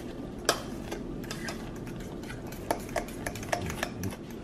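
A spoon scrapes and clicks against a pot while mashed potatoes are stirred side to side to break up clumps, giving scattered sharp taps over a soft, steady scraping.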